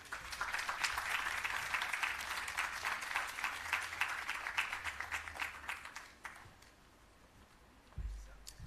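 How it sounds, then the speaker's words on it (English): An audience at a public relations campaign launch applauds the minister, a full, sustained round of clapping that thins and fades near the end before a low thump. "We can give the minister a larger round of applause than that one"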